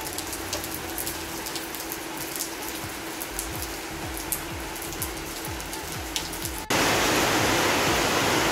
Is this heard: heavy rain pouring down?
yes